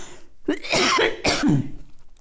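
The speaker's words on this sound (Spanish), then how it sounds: "Todavía me viene quedando algo de tos" Two raspy coughs close together, loud and near, with a throaty clearing sound between them.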